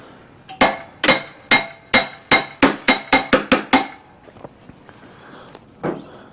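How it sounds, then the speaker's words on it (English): A brass hammer strikes metal on a 30-inch Exmark mower deck about ten times in a steady, quickening rhythm, loud and close, followed by a pause and one more lighter knock. "That's a brass hammer, by the way."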